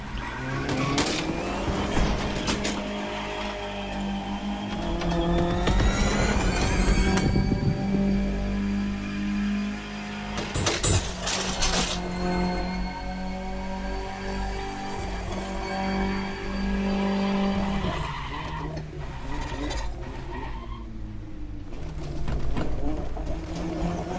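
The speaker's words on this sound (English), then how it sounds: "Get ready for a little jeep ride through some particularly adventurous and wet terrain." A Jeep Rubicon driving over wet, rough terrain in the racing game The Crew Motorfest, a continuous engine drone with rising and falling revs, clunks, and mechanical rattles throughout.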